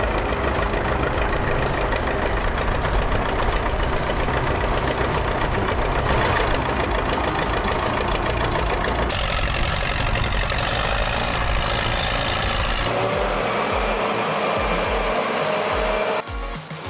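A forestry tractor engine roars under load while dragging an MTZ-82 tractor out of mud on a logging track, loud and sustained with shifting revs and a sudden drop near the end.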